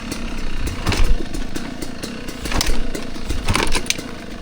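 Kick-starting a 25-year-old 2-stroke Kawasaki KX250 dirt bike with the fuel on and no choke: repeated close, heavy kick strokes bring short sputtering engine bursts that die away without settling into a steady idle.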